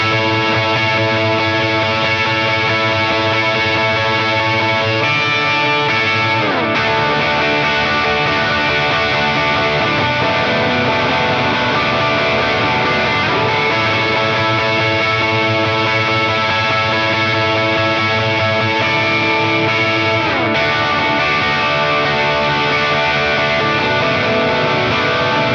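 An electric guitar on a solo setting with distortion and chorus-like effects plays a continuous, sustained lead line with thick, saturated tone, loud and steady throughout, with no voices.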